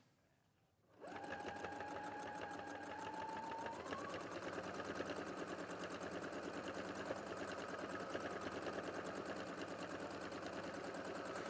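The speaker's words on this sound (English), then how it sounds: "Right, a little bit more quilting." Sewing machine stitching through fabric while quilting starts up after a brief quiet moment, then runs as a steady, fast, even mechanical whir close by for the rest of the stretch.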